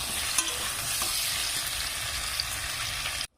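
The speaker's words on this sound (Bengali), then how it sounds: "এবার কুমড়ো ভাজাগুলো আমি এখান থেকে তুলে নেব।" Pumpkin pieces fry in hot oil over high heat, giving a steady, close, dense sizzle with small crackles and pops, ending abruptly.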